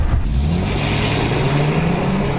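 A rear-wheel-drive Hyundai Genesis sedan with a V6 engine accelerates, its smooth engine note rising steadily in pitch under a constant road roar, with no talking.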